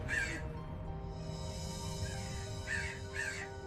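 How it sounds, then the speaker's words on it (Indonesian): A crow caws several times at night near a house roof, harsh bursts coming in two clusters over a steady low background hum, with no talking. "Ini suara burung gagak."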